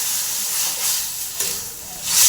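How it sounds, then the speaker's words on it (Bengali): Water poured into hot, cooked-down fish curry masala with tomatoes in a kadai, giving a steady broadband hiss and sizzle throughout that swells louder toward the end, with no talking. "এবার আমি জল দিয়ে দিচ্ছি।"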